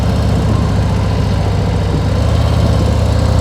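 A 2021 Harley-Davidson Road Glide CVO motorcycle engine idles in neutral close by, a loud, steady low rumble with an even pulsing throb throughout.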